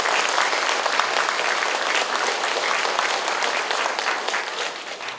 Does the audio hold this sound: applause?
yes